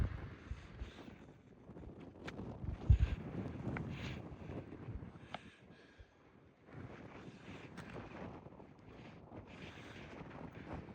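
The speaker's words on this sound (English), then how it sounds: "It was kind of windy up there" Strong wind buffets the microphone on a mountain summit in gusting, roaring bursts, rising and easing over a steady outdoor rush, with no voices.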